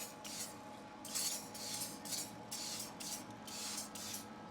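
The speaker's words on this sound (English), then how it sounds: "I give them just a little spray with some canola oil" Canola oil spray bursts onto raw chicken wings beside a heating Traeger grill: about six short hissing puffs at a steady rhythm, close by, over faint background hum and no talk.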